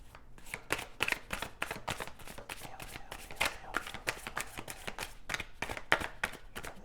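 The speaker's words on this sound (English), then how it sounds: "Let's get an animal spirit card here for you guys." Oracle cards with animal spirit themes are shuffled by hand, making a close, steady run of quick riffling slaps and soft clicks that continues for about seven seconds with no talking.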